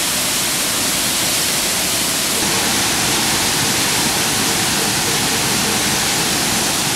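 Ssezibwa Falls on the Ssezibwa River in Uganda pours in a loud, dense, unbroken roar of rushing water, heard close and steady throughout with no voices.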